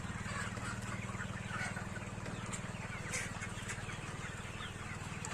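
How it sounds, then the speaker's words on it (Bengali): Sonali chickens clucking at a poultry farm, a steady chorus of many birds with a constant low hum of farm machinery underneath. "আমি আসছি বর্তমান দোহামারি একটা মুরগির ফার্মে"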